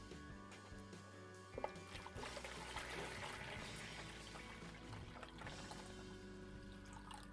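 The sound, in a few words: pouring hot water into a shave bowl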